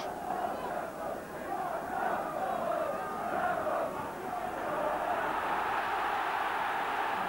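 A home crowd at a Roker Park football match, Sunderland against Liverpool in 1980, makes a steady, distant roar of massed voices with gentle swells. A commentator talks over it.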